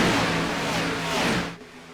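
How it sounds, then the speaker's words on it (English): Race car engines held at full throttle in a sim racing game, a steady loud droning roar that stays constant before easing and thinning out near the end. "You can hear those engines singing."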